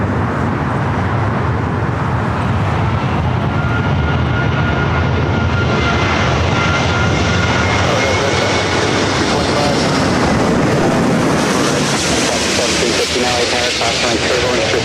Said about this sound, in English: the A380 Super coming in from Dubai. This is the last A380 aircraft ever produced. Now short final for 24 right here at LAX.